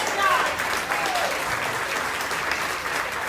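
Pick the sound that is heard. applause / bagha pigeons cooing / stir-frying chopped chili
applause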